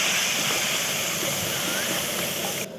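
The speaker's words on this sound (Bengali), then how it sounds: "তারপর এতে জল দিয়ে এটা ফুটতে দেবো।" A pan of spice mixture with added water coming to a boil, a steady close bubbling hiss lasting throughout, with a brief drop at the end.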